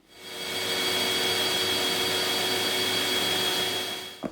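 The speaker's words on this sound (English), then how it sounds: "you just saw me then on what's called a gator belt" Carbon steel knife blade ground on a gator sanding belt toward a smooth satin finish, a steady, loud, close whirring rasp that rises in and holds evenly for several seconds before cutting off with a brief knock.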